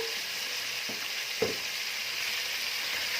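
Cow trotters hit a hot clay pot and sear in sautéed vegetables, a steady loud sizzle with a couple of sharp clatters as they drop in, no talking.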